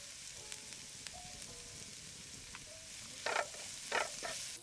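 Onions frying in a pan with soy sauce, vinegar and seasonings, stirred steadily for Chicken Manchurian; a continuous sizzle with faint scrapes and two louder bursts of stirring near the end, no voices.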